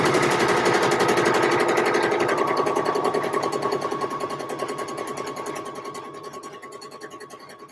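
A sewing machine stitching a buttonhole on an Eve dress, rapid even mechanical chatter running steadily and close, slowly fading in level toward the end, with no talking.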